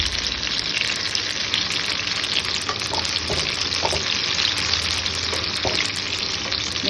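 Food frying in hot oil in a pan, a loud, even, continuous sizzle and bubbling heard up close with occasional faint stirring clicks.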